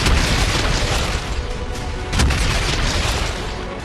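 Russian shelling and cruise missile strikes on Bashtanka, Ukraine: a loud, continuous, rumbling blast roar with a second heavy boom swelling near the end, close and dense.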